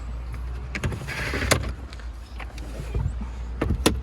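Electric rear window sunshade on a Volkswagen Golf 6 moving with a low steady motor whir inside the parked car, with a few sharp clicks and knocks along the way and nobody talking.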